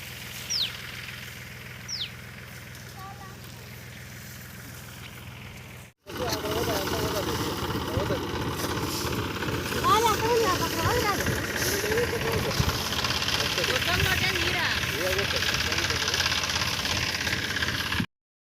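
A groundnut threshing machine's engine running with its rotating wheel, a steady loud mechanical drone that starts abruptly after a quiet stretch and continues with a rough churning texture while someone talks over it.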